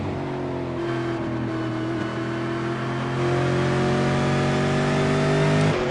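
Several V8 race cars roar around Watkins Glen in an online racing game. The engines drone steadily and loudly, shifting slightly in pitch, and swell louder near the end as the pack draws closer.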